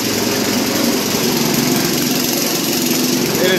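A lawn mower engine driving a homemade generator runs steadily and close by, a continuous buzzing drone with a faint rattle and no pauses.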